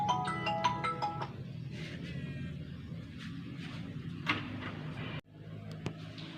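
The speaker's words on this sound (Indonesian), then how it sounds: "Kenapa dia nelfon saya saat aku sibuk seperti ini?" A mobile phone rings with a melodic ringtone for an incoming call during the first second, then rustling and handling sounds follow and end in a brief thud.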